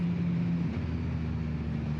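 A motorcycle engine braking through a turn drones steadily close up, and its tone drops once partway through as the revs fall under wind noise.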